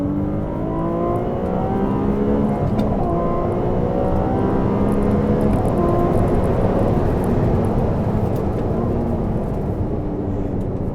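A Ferrari 296 GTB's hybrid twin-turbo V6 revs hard and loud, its engine note climbing and holding in a continuous, dense roar without any talking.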